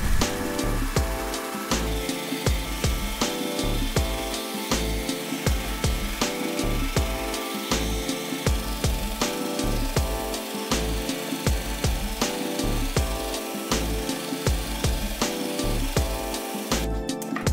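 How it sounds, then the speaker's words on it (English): A belt grinder flat-grinds the bevels of a steel knife blade. The loud abrasive whirring swells and dips in a steady rhythm as the blade passes back and forth across the belt, and no one speaks. "Now that the blade is ready for its bevels, it will receive a flat grind at the belt grinder."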